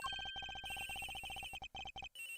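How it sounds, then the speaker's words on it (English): A telephone rings inside an airliner's flight attendant room in the Ace Attorney Investigations video game, a rapid, quiet electronic trill of repeated pulses in quick bursts with short gaps, no talk. "The ringing is coming from somewhere around here."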